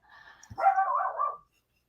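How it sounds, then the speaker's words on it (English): A dog in a home with two dogs gives one short, sharp bark followed by a brief whining tail, fairly close and heard alone against silence. "I heard barking."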